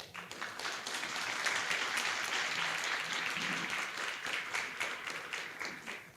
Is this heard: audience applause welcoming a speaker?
yes